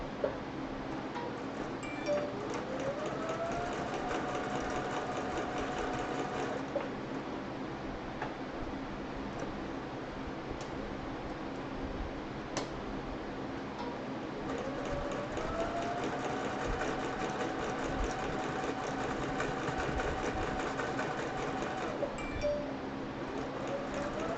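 A sewing machine stitches a chicken-themed quilt with a steady, continuous ticking hum that runs unbroken and fairly quiet, with occasional slight shifts in pitch as it keeps sewing.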